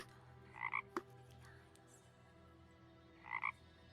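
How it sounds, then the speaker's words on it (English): Frogs croak faintly in quiet surroundings, two short double croaks about three seconds apart, the second slightly louder. A sharp click falls between them. "Frogs."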